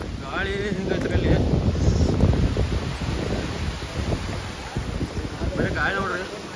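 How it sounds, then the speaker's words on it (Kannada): Strong, gusting wind buffets the microphone on the monsoon hilltop of Kodachadri, a steady roaring rumble that swells and eases throughout, with a person speaking briefly beneath it. "ಬರೀ ಗಾಳಿ ನೋಡ್ರಿ"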